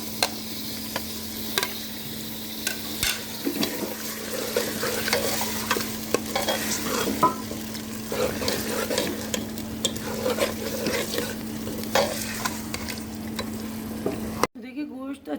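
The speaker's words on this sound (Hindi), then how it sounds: "थोड़ा सा गोश्त भून लेंगे लहसुन अदरक के साथ" Meat fries in a pan with garlic and ginger and is stirred, giving a continuous close sizzle broken by scraping and clinking of the spoon, with a steady low hum beneath.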